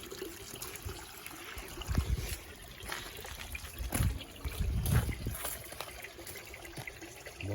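Small waterfall in a stream carrying dropped food away, a faint, close trickle and splash of running water with soft uneven surges of louder gurgling.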